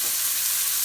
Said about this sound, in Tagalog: ginigisa ko